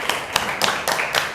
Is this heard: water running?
no